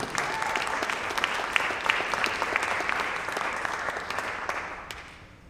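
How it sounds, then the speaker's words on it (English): A room of attendees at a career-week social media meetup gives a steady round of applause, dense and even, fading out toward the end. "so we can give you a nice round of applause"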